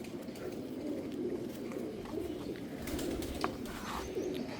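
Soft, low pigeon cooing close by, repeated throaty coos over a steady background murmur, with a few faint chirps.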